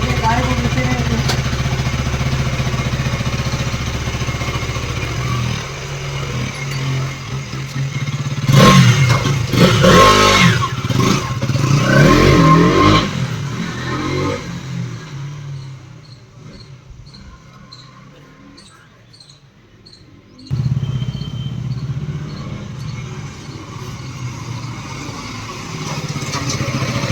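A KTM Duke 200 BS6 motorcycle with an idle problem rumbles nearby, its engine revving up in a loud burst before settling back toward idle, with someone speaking over parts of it and insects chirping faintly.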